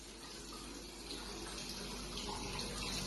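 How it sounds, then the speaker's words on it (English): Tap water running steadily in a toilet, a continuous broadband splashing rush that holds level and close for the whole stretch, with no voices. "When entering the toilet, Hanin saw a tap water running, but chose to ignore it"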